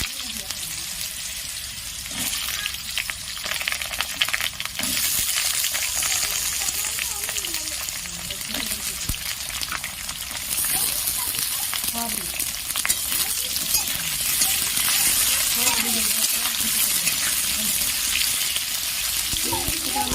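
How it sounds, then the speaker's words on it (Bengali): Potatoes dropped into hot oil with mustard seeds and bay leaf, sizzling and crackling loudly and steadily close up as they fry for a pointed gourd curry, with stirring clinks and some faint talk underneath. "এবার আমি এখানে আলুগুলো দিয়ে দিলাম।"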